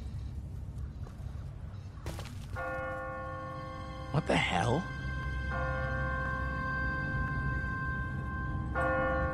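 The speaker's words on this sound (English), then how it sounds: "What kind of church bell goes off at 20 past the hour?" Automatic church bell on a timer ringing in The Walking Dead video game, rising as several sustained tolls over steady ambient background, with a brief rustling burst midway and someone speaking briefly.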